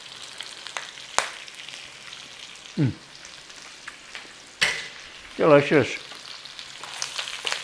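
Bacon and cabbage fry together in a single pan with a steady close sizzle, broken by a few stirring scrapes and a short spoken word.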